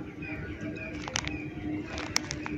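Pigeons cooing and crows calling around a rooftop at dawn, the bird calls moderately distant and intermittent over a steady low background hum, with a couple of sharper call bursts.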